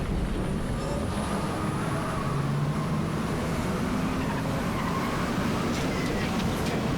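A steel roller coaster modeled on Yukon Striker at Canada's Wonderland launches backwards in the NoLimits 2 simulator, giving a steady, loud rolling rumble and whoosh that stays dense and constant throughout.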